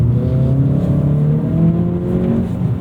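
An Acura Integra A-Spec accelerating hard, its engine note rising steadily in pitch and staying loud and close throughout, with tyres clawing for grip and no talking.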